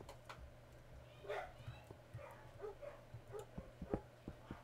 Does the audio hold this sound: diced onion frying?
no